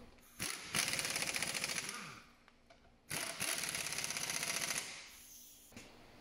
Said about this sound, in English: And tighten using an 18mm socket.